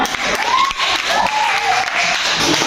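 A classroom group gives a round of applause, loud, continuous clapping with voices mixed in throughout.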